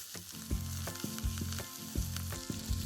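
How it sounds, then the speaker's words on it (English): Cold butter with garlic, thyme and rosemary sizzling in a hot pan beside venison steak, a steady close crackle broken by regular spoon or pan knocks about every half second. "Add garlic, thyme, rosemary, and a few tablespoons of cold butter to pan."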